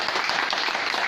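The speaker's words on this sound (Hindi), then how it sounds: "थोड़ा तालियां जोर से बजाओ दोस्तों" A brief, loud burst of continuous audience clapping fills a LIC study circle meeting room, with no pauses.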